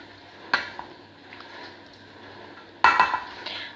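A utensil stirs vegetables in a dish, with two sharp clinks against the vessel and soft scraping between them, close and fairly quiet.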